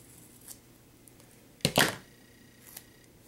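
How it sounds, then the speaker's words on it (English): Scissors trim material in half while an FPV board camera is being fitted to a multirotor: a faint click, then two quick, sharp snips close by, with near silence around them. "I'm just gonna trim this off in half."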